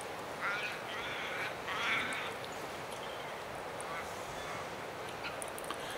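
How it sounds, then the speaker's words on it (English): A crow caws outdoors at Loch Sport, two faint, slightly drawn-out calls early on, set against a steady hiss of background noise, with the rest left mostly to ambient sound. "The only thing I heard was a depressed crow."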